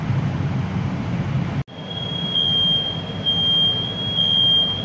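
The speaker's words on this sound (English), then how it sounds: "Shut the fucking alarm off." Kitchen smoke alarm going off, a piercing steady high-pitched tone that starts abruptly after a brief cut in the background noise and continues without a break, loud and close.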